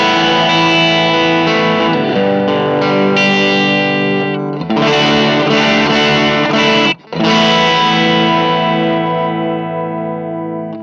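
An electric guitar strums chords through a distortion effects pedal, loud and saturated, ringing sustained chords with brief breaks and a short silent gap before the strumming resumes.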